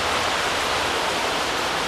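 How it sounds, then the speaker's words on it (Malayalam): Heavy, pouring rain in a constant dense hiss with no breaks, loud and close throughout, no voices over it. "കണ്ടോ പെരുമഴ പെയ്യുന്നത് സർവ്വസാധനവും പറത്തിക്കൊണ്ട് പോകുന്ന മഴ"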